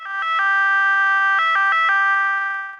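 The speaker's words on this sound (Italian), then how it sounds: "fa tutti i controlli sia alle sirene" A volunteer first-aid ambulance siren sounds loud and close, in a steady two-tone electronic wail with pitch switches that speed up briefly midway, and no voices over it.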